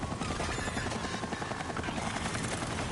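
Resident Evil 4 video game helicopter, a steady heavy rotor drone with pulsing low thumps, loud and unbroken across the whole moment.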